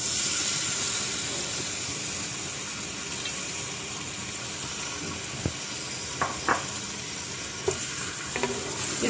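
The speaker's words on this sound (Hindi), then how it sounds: "इस ऑयल के अंदर सबसे पहले चॉप प्याज डाल देंगे।" Chopped onions frying in about a quarter cup of hot oil, a steady close sizzle with occasional soft stirring clicks and scrapes, no voices.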